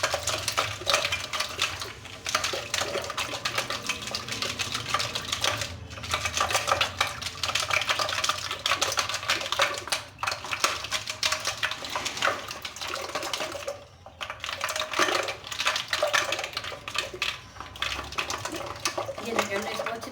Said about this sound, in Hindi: ये देखिए, हमने इसको अच्छी तरह से फेंट लिया है।